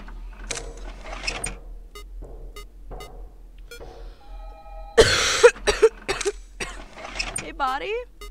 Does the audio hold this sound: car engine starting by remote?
no